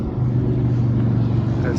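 A truck engine running at a steady low idle, a continuous rumble with a firm low hum, fairly close and unchanging throughout the short stretch.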